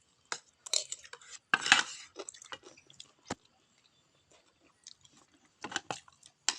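Eating rice with grilled fish and cucumber salad outdoors at a rubber plantation, with intermittent cutlery and dish clinks and soft chewing in short bursts separated by quiet gaps, close and fairly faint.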